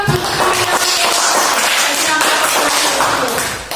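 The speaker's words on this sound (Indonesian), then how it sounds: "Kita berikan tepuk tangan dulu." Classroom of elementary school pupils applauding together, a dense, continuous burst of clapping that stays loud and steady throughout.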